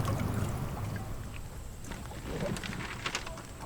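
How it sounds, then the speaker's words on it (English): Soft outdoor dock ambience: a low steady wash of water and wind with faint scattered knocks and creaks, no voices. "I really like these subtle dock sounds."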